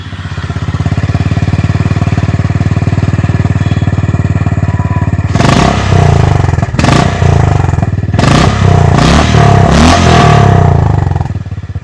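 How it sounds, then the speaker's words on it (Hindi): Exhaust note of a Honda CB350RS motorcycle, a steady close idle thump that breaks into several sharp throttle blips and revs in the second half, each rising and falling quickly. "अब सुनते हैं होंडा CB50 RS का एग्जॉस्ट।"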